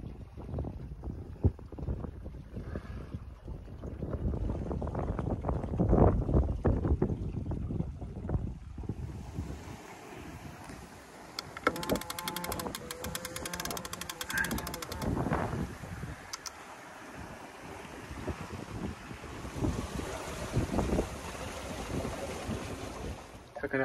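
Sailboat underway on open sea bound for Scotland, wind buffeting the microphone over steady rushing water and wave wash, with creaks and knocks from the hull and rigging throughout.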